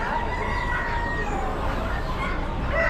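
India blue peafowl at an Amish animal auction gives a few short, high, honking calls over a steady wash of barn and crowd noise.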